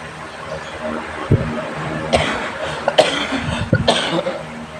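Dry, repeated coughing from a person who has caught a cold: a few sharp, close coughs in separate bursts over a few seconds, with a little throat clearing and no talking.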